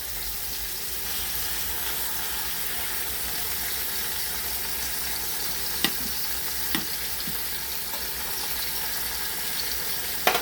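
A pot roast seared in a pan with heads of garlic, a steady moderate sizzle and hiss that runs throughout, broken by a couple of brief knocks, no speech.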